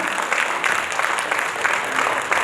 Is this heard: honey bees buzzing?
no